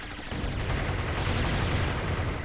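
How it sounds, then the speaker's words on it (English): A mortar fired in a Space Marine 2 battle, a sudden deep boom followed by a dense rumbling, crackling barrage of blasts and gunfire that stays loud to the end. "Also throw down a mortar."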